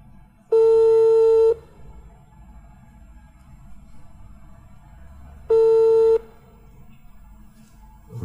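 Telephone call tones, two loud, steady electronic beeps about a second long and several seconds apart, over a quiet background murmur.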